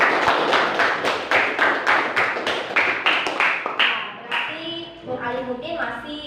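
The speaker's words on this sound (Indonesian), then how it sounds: "kita kasih aplaus dulu untuk jawaban dari Alimuddin" Classroom applause for a student's correct answer in an Indonesian school lesson: a steady burst of clapping from many hands for about four seconds, then fading as a teacher's voice takes over.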